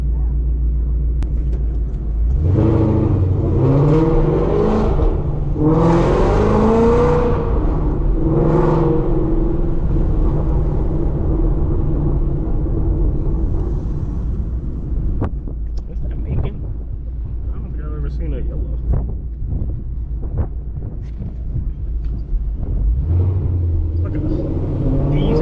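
A Whipple-supercharged Ford Mustang engine rumbles and revs hard under acceleration, loud and close from inside the car, with the engine note rising through gear then settling to a steady drone.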